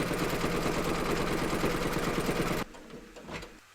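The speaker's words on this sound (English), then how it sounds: "We're now going to stitch round number 9, and that's going to baste our two panels together." A sewing machine basting two fabric panels together for a bellpull and runner, running steadily and loudly for about two and a half seconds before stopping abruptly, followed by faint handling sounds.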